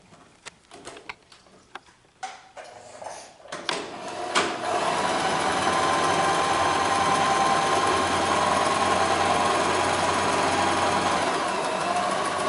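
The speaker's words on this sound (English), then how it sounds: "we're going to sew a 1/4 inch seam where the edges join here" A sewing machine runs a quarter-inch seam along folded fabric to make a tube. A few handling clicks and knocks come first, then the motor starts and keeps up a steady, close mechanical whir with a fast needle ticking.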